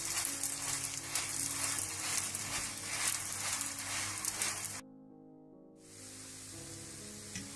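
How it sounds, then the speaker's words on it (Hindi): Aloo paratha cooks in melted butter on a pan, giving off a loud, continuous sizzle and hiss that stops suddenly for about a second, then resumes more quietly. "एक साइड पकने के बाद आप दोबारा मक्खन डालें और इसको फिर पलट दें और दूसरी साइड भी पका लें"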